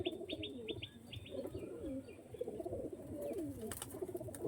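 Tournament-quality pigeons cooing softly in a loft, a faint, continuous burble of coos mixed with a quick run of high chirps at the start and a brief flutter of wings.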